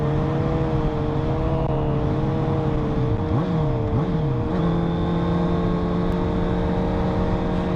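A Honda motorcycle engine holding a steady droning hum, then rising and dipping briefly as the throttle is twisted gently before settling at a higher steady pitch, loud and close throughout.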